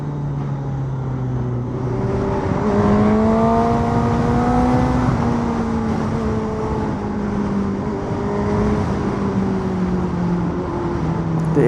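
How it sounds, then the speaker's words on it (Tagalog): A Honda CB1000 Hornet sport motorcycle engine revs up and holds a loud, rising drone, pitch climbing and then settling as it keeps running close by. "Ito literal na pumupunit na motor."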